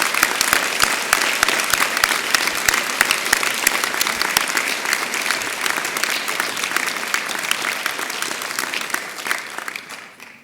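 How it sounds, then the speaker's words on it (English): Sustained round of applause from a large audience at a University of South Wales graduation ceremony, dense steady clapping filling the hall throughout and tapering slightly at the very end. "give their role the recognition it deserves by a well-earned round of applause"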